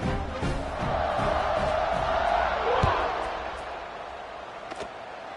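A packed football stadium crowd roars at kickoff in a college game between Texas Tech and UCLA, a steady loud wash of cheering with a few sharp thuds and shouts on top.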